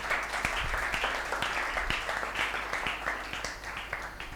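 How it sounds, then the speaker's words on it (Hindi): A church congregation at a sermon applauds loudly for a brother, with steady rhythmic clapping from many hands that carries on evenly, near and full, the whole time. "भाई सलीम के लिए जोरदार तालियां बजा दें।"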